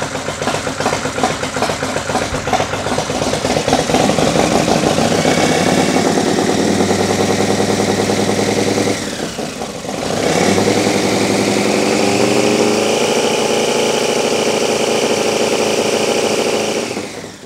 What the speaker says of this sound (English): So what we're going to do now is start the bike and show you what that looks like in a real live test.